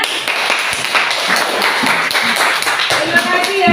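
A classroom group claps hands in rapid, close applause lasting a few seconds, with a voice speaking over the clapping.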